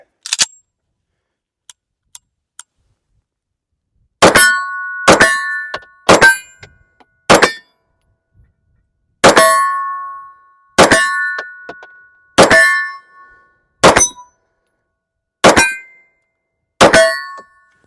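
A new Browning Hi-Power pistol firing at steel targets, with about ten sharp shots spaced a second or two apart, each followed by a ringing metallic clang, loud and close with no talking.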